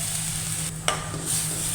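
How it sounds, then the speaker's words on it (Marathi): Sizzling fenugreek dal tadka in a pan hisses steadily, then water is poured in with a sharp burst and a brief muffled dip before the sizzle comes back. "थोडंसं पाणी घालायचं आहे।"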